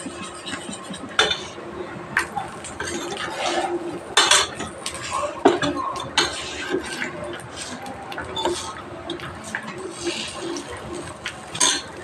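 Eggs are beaten vigorously in a bowl, with close, irregular clinks and scrapes of a utensil against the bowl and a wet, sloshing swish between the louder knocks.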